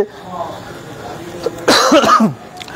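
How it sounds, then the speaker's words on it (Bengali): A person with a sore throat at a Nageshwar Mahadev temple lets out one short, harsh cough, close and loud, after a stretch of quiet background murmur. "মাফ করবেন, আমার একটু কাশিটা হচ্ছে"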